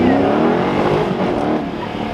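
A white Koenigsegg Agera supercar revs hard at a car meet, its loud, close engine roaring steadily through the whole moment with a slight easing toward the end, and no talk over it.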